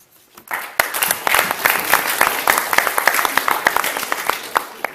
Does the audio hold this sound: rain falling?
no